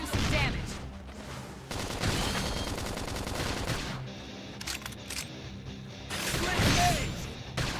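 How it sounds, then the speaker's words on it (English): Rapid bursts of gunfire and grenade blasts from combat in the video game Xenoblade Chronicles X crackle and thump densely and loudly, with a swelling explosion near the end. "Now, topple them with some gunfire."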